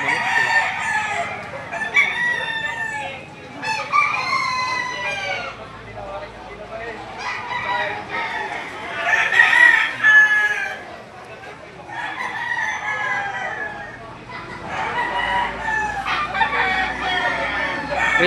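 Roosters crow repeatedly among clucking fowl at a rainy outdoor chicken market, several drawn-out cock-a-doodle-doo calls rising over a steady bed of crowd chatter and background noise.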